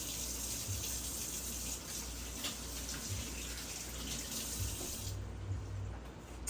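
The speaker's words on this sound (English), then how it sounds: "Wash my hands." Tap water runs steadily into a kitchen sink as hands are washed after massaging seasoned meat, a continuous close splashing stream with no talk.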